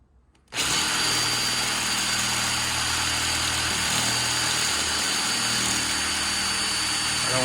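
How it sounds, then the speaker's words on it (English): Power drill boring 8mm holes into home-made carbon fibre engine mounts for a 2000 YZ250, starting abruptly after a brief quiet moment and then running at a steady, loud, unbroken whine close by with no talk. "now I'm about to drill the 8mm holes for the upper engine mounts"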